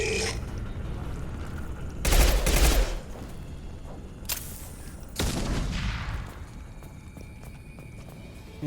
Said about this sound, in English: Still shooting at somebody.